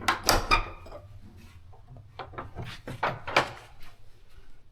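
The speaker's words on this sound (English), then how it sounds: "Shut the door to keep the bugs out." A bothy door in a remote setting at night, opened and pushed shut, a loud close thump and rattle at the start followed by softer knocks and creaks, with a low background hum and no talking.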